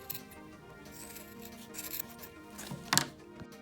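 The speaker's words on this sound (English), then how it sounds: "we're going to kind of fluff it up with our hands, and then we're going to start trimming." Scissors snip and trim a fluffed yarn pom-pom for a cactus craft, a run of soft close cutting sounds ending in a sharper, louder snip near the end.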